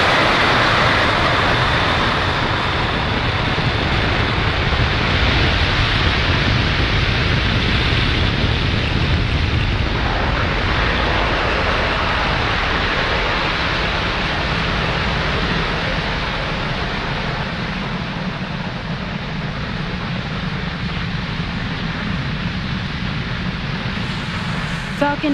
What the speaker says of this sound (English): Falcon 9 has successfully lifted off from pad 40 and throttled down to prepare for max Q